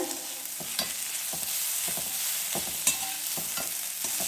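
Ridge gourd peel sautéing in plenty of oil, a steady close sizzle broken by regular scraping stirs of a spoon in the pan, with no talk.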